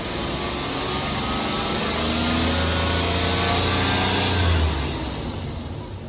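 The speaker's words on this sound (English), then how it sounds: "We're about to rev the engine to see if that will change the distance in our gap." Car engine revved during a fuel system test, rising from idle to a loud, sustained high-rpm whine that holds for a few seconds, then drops back down, heard close by without speech.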